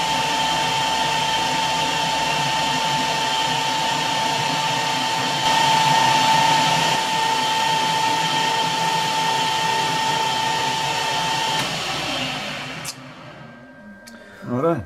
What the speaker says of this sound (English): we'll pop it back in the ER32, and we'll just cut a little chamfer on that